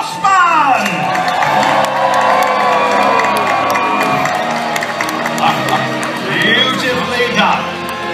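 A large audience at a Medieval Times dinner show cheers loudly, with shouts, whoops and children's high yells blending into a continuous roar that swells at the start and again near the end.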